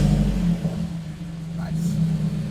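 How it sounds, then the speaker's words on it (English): A swapped Honda F20C engine in a car turns over and runs, a loud low rumbling drone that dips and swells, with voices talking over it. "That starter just sounds so heavy duty."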